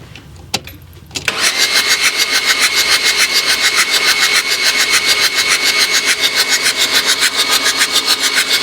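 A struggling diesel engine is cranked by its starter after a short quiet moment, giving a loud, rhythmic chugging pulse that keeps an even beat throughout.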